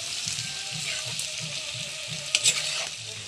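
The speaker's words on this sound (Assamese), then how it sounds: "এতিয়া লৰাই দিছোঁ ধুনীয়াকৈ" Chicken meat curry being stirred in a pan, a steady sizzle and frying hiss with rhythmic scraping strokes of the spoon, close and continuous, with one brief louder clatter near the end.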